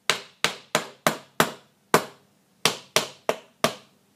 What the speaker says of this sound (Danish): Nu sømmer vi de andre i.